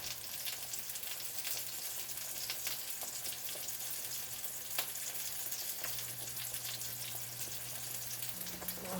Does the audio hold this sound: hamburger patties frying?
yes